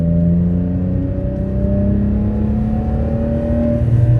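BMW E46 M3 engine droning loudly and steadily at close range from inside the car, with sustained revving tones and no distinct pops standing out.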